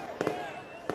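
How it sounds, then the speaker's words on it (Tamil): Firecrackers at a 2024 election campaign rally in Madurai: two brief, sharp crackling bursts a moment apart, faint and distant under amplified speech. "பட்டாசு கொஞ்சம் நிப்பாட்ட சொல்லுங்க."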